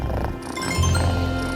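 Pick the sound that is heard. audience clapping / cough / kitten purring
kitten purring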